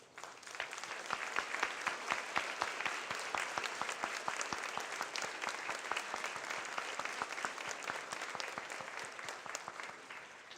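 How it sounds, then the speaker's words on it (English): Audience at a volunteer awards ceremony gives a sustained round of applause, dense steady clapping throughout with no break. "please stand while you all join me in a richly deserved round"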